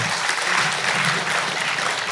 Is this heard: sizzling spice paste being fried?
no